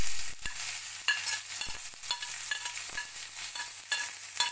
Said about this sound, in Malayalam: ഉള്ളി ഇട്ട് കൊടുക്കാം.